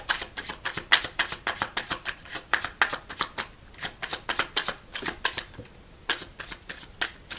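Tarot cards are shuffled by hand, giving a rapid, rhythmic series of crisp riffling and slapping bursts, close and fairly quiet, with a brief pause partway through.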